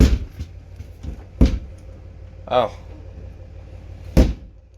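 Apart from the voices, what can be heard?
trailer doors being closed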